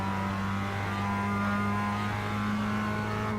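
A 2017 Mazda MX-5 race car in the iRacing sim at Lime Rock holds a steady, loud engine drone with a constant pitch and a faint rise in revs, no voice present.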